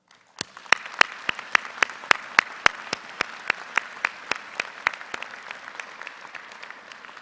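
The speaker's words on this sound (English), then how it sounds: "they deserve a round of applause" Sharp, evenly spaced claps from a commencement audience at a university fall ceremony, loud and crisp, then slowly thinning and fading over several seconds with no talking.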